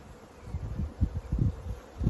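A low, soft buzzing of honeybees at small queen-rearing hives drones close by, pulsing irregularly as insects drift near, steady and fairly quiet with no talking.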